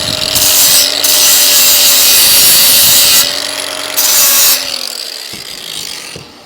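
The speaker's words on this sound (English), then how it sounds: "I need to hit these tips with the grinder real quick" A grinder works on metal tips of a Harbor Freight winch setup, a loud steady whining grind with brief dips as contact changes, then winding down near the end.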